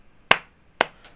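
Two sharp hand claps close to a microphone, about half a second apart, the second followed by a faint softer third tap.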